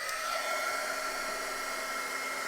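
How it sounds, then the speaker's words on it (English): A handheld heat tool blows steadily to erase Frixion pen ink from a slow-stitched journal piece, giving a constant, even hair-dryer-like whir with no talking. "Let me get my heat tool."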